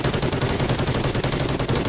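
Sustained machine gun fire in the Call of Duty: Ghosts campaign, a dense unbroken stream of rapid shots at steady loudness with no voices.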